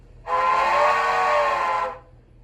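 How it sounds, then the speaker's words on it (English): A steam whistle from an HO scale model locomotive blows once, a single loud, steady tone lasting about a second and a half, close and alone, then cuts off cleanly. "Let's see if the whistle will work here."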